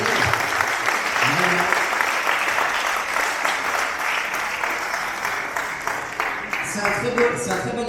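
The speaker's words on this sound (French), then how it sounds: "vous pouvez l'applaudir." An audience at a political youth event in Valence breaks into sustained, dense applause, many hands clapping steadily for several seconds before tapering near the end.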